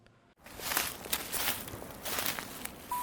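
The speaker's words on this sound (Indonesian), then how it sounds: "Langkah kaki. Langkah itu pelan." Slow footsteps on a quiet street at night, a series of soft, evenly spaced steps close by after a brief silence, with no voices.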